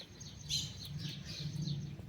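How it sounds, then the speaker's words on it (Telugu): Faint, high bird chirps over a steady low rumble, several short calls repeating through the brief stretch. "మేము మాట్లాడుతుంటే మీకు వెనక పిట్టల సౌండ్ వస్తుందా"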